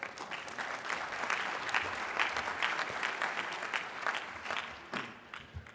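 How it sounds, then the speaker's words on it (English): Sustained applause from an audience at a mayors' conference plenary session, steady dense clapping filling the hall for several seconds and thinning slightly near the end. "Let's give a round of applause for Mayor Coleman."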